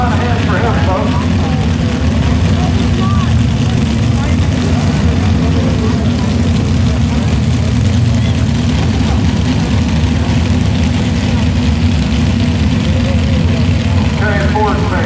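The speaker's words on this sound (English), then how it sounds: "We have 2 blown Hemmys on that tractor." Pulling tractor fitted with two blown Hemi engines at a tractor pull, a loud steady engine roar running continuously throughout, with crowd voices and announcer talk mixed in beneath.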